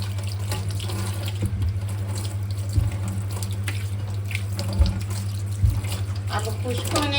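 Kitchen tap runs in a steady close rush while raw green mangoes are washed under it for pickle, with a few dull knocks of fruit in the water.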